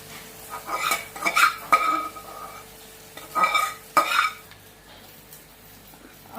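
A spoon scrapes and clinks against a metal pan while melted jaggery and ghee are stirred into a dry mixture of dates and edible gum for laddus, in irregular close bursts separated by quiet pauses, with no talking.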